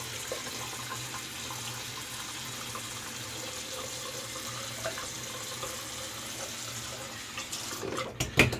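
Water runs steadily from a tap for a rinse after shaving, a constant close hiss and splash for several seconds before some clattering handling noises at the end.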